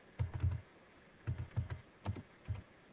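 Typing on a computer keyboard: a few quick bursts of key clicks come in short clusters separated by pauses, close and fairly soft, with no voice.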